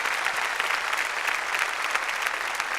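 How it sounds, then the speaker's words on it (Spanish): A church congregation claps during a Spanish-language service. The clapping is dense and sustained, with faintly pulsing strokes running through the steady sound across its whole length. "Dele palmas al Señor de la gloria."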